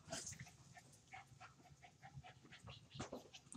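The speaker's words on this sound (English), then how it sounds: "you will hear lots of barking." A small dog pants quickly and lets out soft whimpers, close and fairly quiet, in short breathy bursts.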